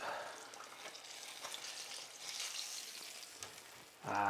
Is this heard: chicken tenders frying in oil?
yes